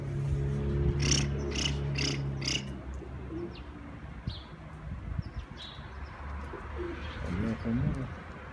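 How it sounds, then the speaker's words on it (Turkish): Turkish tumbler pigeons and their young coo and flutter nearby in a loft, with soft repeated coos and chirps over a rough background rumble and some low voices. "yavrularımız da yeni yeni palazlanıyor ve aşağı gitti."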